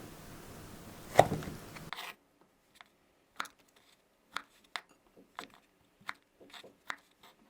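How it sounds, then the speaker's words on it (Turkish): A knife cuts sucuk sausage into quarters on a board: about a dozen short, crisp taps and thuds at irregular spacing, close and clear against near silence, after a brief noisy start. "Şimdi sucuklarımızı Şöyle dörde bölüyorum"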